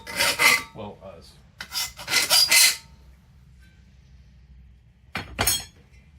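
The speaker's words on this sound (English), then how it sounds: "Sand this edge so we don't end up cutting ourselves" Hand sanding of a metal edge on new suspension parts for a 1969 Dodge Charger, heard as several close, harsh rasping strokes in bursts with quiet gaps between them.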